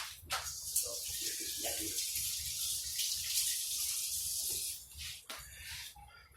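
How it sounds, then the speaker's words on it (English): Tap water runs steadily over hands being rinsed at a kitchen sink during meat cooking, a broad continuous hiss with small splashy shifts and a brief break near the end. "Let me rinse my hands."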